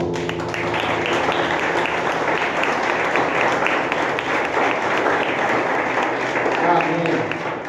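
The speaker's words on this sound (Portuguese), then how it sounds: "Aplauda o meu bem forte" A church congregation at a family worship service applauds strongly, a loud continuous wash of clapping sustained evenly for several seconds with voices mixed in, tapering slightly at the close.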